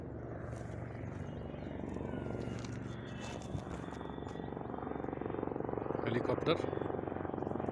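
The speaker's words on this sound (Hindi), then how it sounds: "हेलीकॉप्टर" A helicopter drones faintly in the distance on a mountain trek route, a low steady rotor hum that swells slightly, with occasional outdoor sounds and no clear speech over it.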